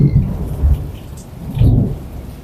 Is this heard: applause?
no